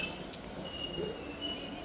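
A fast train rushes past nearby, a steady low rumble of wheels on rails with a faint high squeal running through it.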